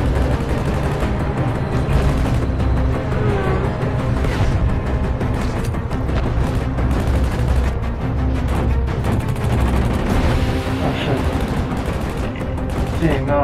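Rapid bursts of machine-gun fire in the game Battlefield V rattle on continuously, dense and loud, mixed with explosions and a noisy battle backdrop.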